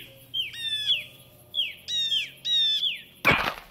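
Game birds chirping in repeated quick tweeting bursts, three clear calls close by, ending with a short noisy rush like flapping wings.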